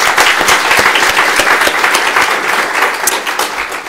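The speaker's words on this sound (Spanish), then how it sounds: "Le damos un aplauso a los hermanos." A church congregation at a bilingual Spanish-Korean service claps loudly for the brothers, a close, vigorous burst of hand claps with distinct individual slaps standing out from the dense applause throughout.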